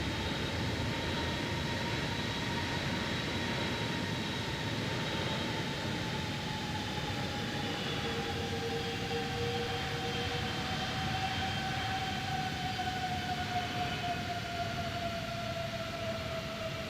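Airbus A330 jet engines with thrust reversers in the flight simulator X-Plane 12, a loud continuous roar carrying steady whining tones that slowly drift lower, with no talking.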